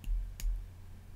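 A single sharp computer mouse click, close and quiet, with a fainter tick just before it and low room hum throughout.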